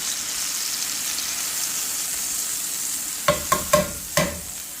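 Scallops searing in a hot pan alongside garlic parmesan white beans, a steady close sizzle throughout, joined near the end by a few sharp knocks and scrapes as pieces are turned, with no talking.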